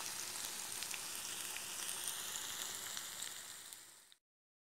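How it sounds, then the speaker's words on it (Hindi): Maggi noodle pakoras fry in hot oil with a dense, even sizzle close by at a moderate level. The sizzle runs steadily and then cuts out abruptly near the end, with no talking. "पकौड़ों को हमें सुनहरा होने तक फ्राई करना है।"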